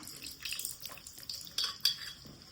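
Metal cookware clinks and scrapes as a pot is handled, with light taps and a few brighter clanks over a faint watery background.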